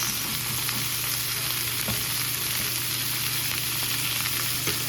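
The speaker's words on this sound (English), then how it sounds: "Get those onions in there, preferably on the hot skillet surface." Onions frying on a hot skillet, a loud, even, close sizzle with faint stirring ticks and a low steady hum underneath throughout.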